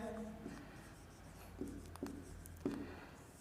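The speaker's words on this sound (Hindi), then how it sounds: "देखिए जैसे मान लीजिए एक सवाल हम लिखते हैं" A pen writing a math question by hand on paper, faint scratching strokes with a few sharper taps, close up under a quiet background hum.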